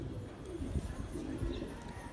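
Pet pigeon cooing in a loft of fighter birds, low soft coos repeating through a faint, murky background, quiet and somewhat distant.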